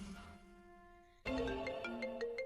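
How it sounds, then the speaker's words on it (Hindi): A phone ringtone sounding in a drama scene, a soft sustained melodic tone that switches partway through to a brighter, louder chiming melody with repeated notes, no talk. "आरंभी मैडम का ही फोन आ गया है।"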